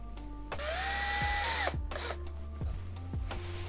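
A power drill drives self-tapping screws into wood. It gives one sustained whining run that rises in pitch and then stops, followed by several short clicking bursts in a quiet workshop.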